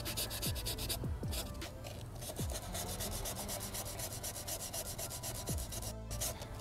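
A sanding block rubs back the edges of car body filler in a steady, continuous scratchy rasp, close and unbroken, with no speech.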